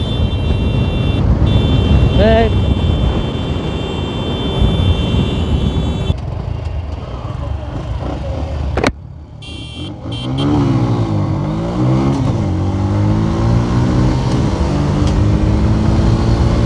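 Bajaj CT 110X and TVS Victor 110 commuter motorcycles racing flat out at top speed, a loud continuous engine drone with wind rush, one bike's note briefly dropping before climbing again as it closes in.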